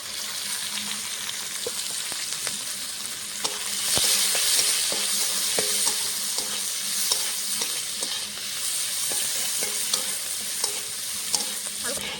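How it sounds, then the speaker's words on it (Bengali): Chopped onion and green chilli fry with cumin in hot oil in a pan for a small-fish chorchori, a continuous bright sizzle broken by frequent scraping stirs of a spatula, close and steady without talk. "পেঁয়াজ আর লঙ্কাটা আমি হালকা করে ভেজে নিয়েছি।"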